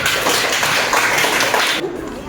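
Applause from a classroom of students, a dense burst of clapping that fills the room, then cuts off sharply near the end and leaves quieter room noise.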